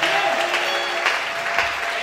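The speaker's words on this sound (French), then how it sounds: "Acclamons très fort pour le Seigneur." A church congregation clapping loudly and continuously for the Lord during a worship service, a dense burst of applause from many hands filling the room.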